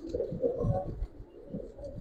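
A Giribaz tournament-flying pigeon gives low, rumbling coos at close range over a steady muffled background.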